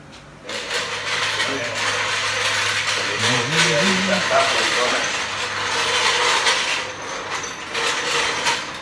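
A 1959 VW Beetle engine, first started in over 40 years, runs loud and rough with a raw, unmuffled exhaust roar, holding steady with a brief rise in pitch midway.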